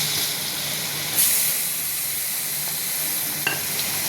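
Garlic and ginger paste fries in a pan with a steady, hissing sizzle, moderately quiet, plus a couple of brief clinks, with no talk.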